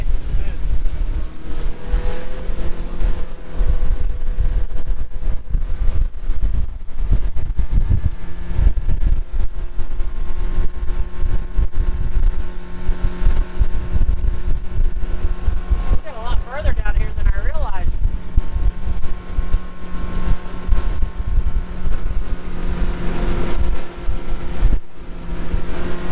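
Steady engine drone and rushing wind and water from a Bennington TriToon pontoon boat cruising smoothly at speed, continuous and close, with talk over it at times.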